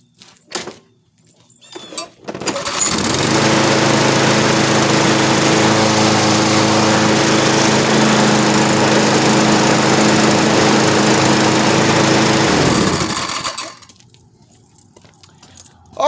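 A lawn mower's small engine, checked for a transmission problem, starts up after a few faint knocks and runs loud and steady at a constant drone for about ten seconds, then cuts off.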